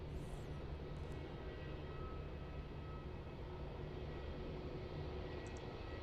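Airliner landing and slowing on the runway at Melbourne Airport, a steady distant roar of jet engines that holds evenly throughout with no clear peaks.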